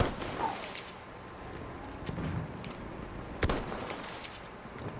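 A single sharp sniper-rifle shot from Battlefield 1, played on PS4, cracks out mid-clip over a quiet, low battlefield ambience, with a few fainter distant thumps around it.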